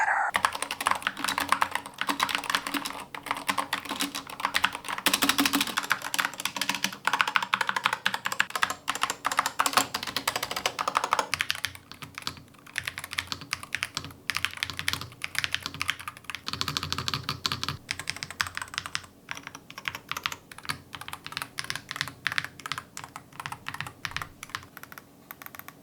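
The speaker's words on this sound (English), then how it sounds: "Now let's do a quick sound test of what all these keys sound like" Keystrokes on a NuPhy Field75 HE and a Corsair K100 keyboard, a dense continuous clatter of rapid typing that shifts in tone partway through as the board changes, close and alone with no voices.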